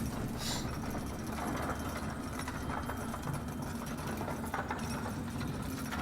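An elevator ride in the Lords of the Fallen video game gives a steady mechanical whirring and rumbling hum, constant and moderately loud throughout, with no voice over it.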